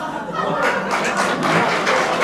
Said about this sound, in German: Oh, jetzt kommt Applaus.